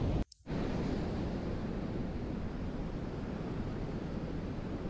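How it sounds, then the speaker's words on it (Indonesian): Big waves from the Indian Ocean breaking on Widarapayung beach, a loud continuous roar of surf with heavy wash and wind noise, following a brief quiet moment at the very start. "ombaknya yang besar karena berbatasan langsung dengan Samudra Hindia"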